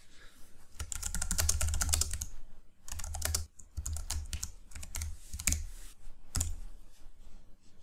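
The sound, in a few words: typing on a computer keyboard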